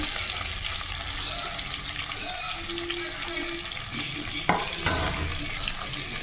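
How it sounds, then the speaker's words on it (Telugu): Chopped onion pieces with green chillies dropped into hot oil for chickpea guggillu, a continuous close sizzle with light stirring and a sharp clatter near the end. "వాటిని ఉల్లిగడ്డలు వేసేస్తున్నాను ఉల్లిగడ్డ ముక్కలు"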